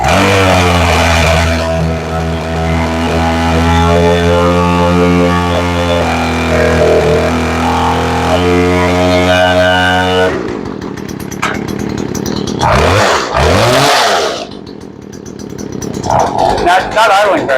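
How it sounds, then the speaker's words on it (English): A chainsaw with a newly replaced carburetor runs loud and close, holding a steady high rev with strong harmonics, then drops into rough, uneven revving and sputtering bursts as the high-speed setting is adjusted. "Now I'm adjusting the high so we can rev it up."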